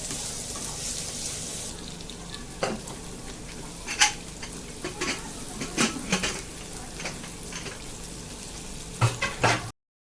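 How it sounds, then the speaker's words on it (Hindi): Onions sizzle and fry steadily in a pan for kaleji masala, a continuous hiss broken by several sharp clinks and scrapes of stirring, with no talking. "प्याज को चलाते हुए गोल्डन ब्राउन होने तक फ्राई करेंगे इसको"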